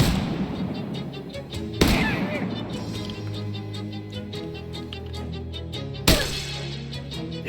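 Gunfire in the video game Shadows Over Loathing, with two sharp shots spaced a few seconds apart over steady game music.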